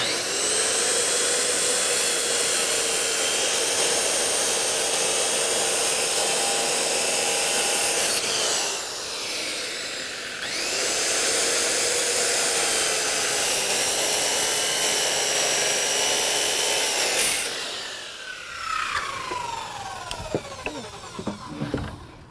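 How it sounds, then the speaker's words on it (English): A skill saw with a carbide tip blade cuts hardwood deck panels in a long, loud, high whine that dips briefly mid-cut, resumes, then winds down with a falling tone at the end. "give it a quick cut with our skill saw. Make sure you're using a carbide tip blade or you will not be able to cut hardwood"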